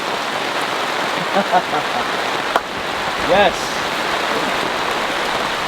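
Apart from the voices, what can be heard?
heavy rain falling on a camping tarp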